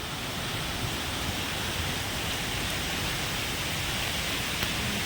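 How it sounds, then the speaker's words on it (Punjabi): Heavy monsoon rain pours steadily during a Punjab downpour, a dense, loud, unbroken hiss that holds constant throughout with no voices. "ਕਣੀਆਂ ਬਹੁਤ ਜ਼ਿਆਦਾ ਆ ਗਈਆਂ ਲਓ ਜੀ ਬੀ ਹੋਰ ਤੇਜ਼ ਹੋ ਗਿਆ"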